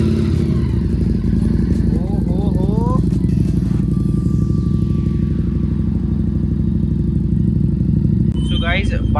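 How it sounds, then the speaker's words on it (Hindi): A motorcycle that has been standing for several days idles steadily after a cold start, with a loud, close engine rumble and some clatter throughout. "तो भाई इसको चलते हैं वॉश करवाते हैं, पहले कर लेते हैं इसका कोल्ड स्टार्ट,"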